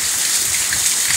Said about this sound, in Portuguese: Olha a chuvinha aqui em Santa Cruz, tá chovendo à vontade.